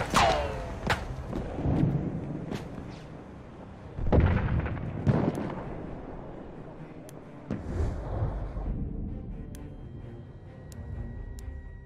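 A grenade goes off in the World War I shooter Battlefield 1, a heavy thudding blast standing out amid continuous battlefield gunfire and distant booms, with further impacts following over about twelve seconds.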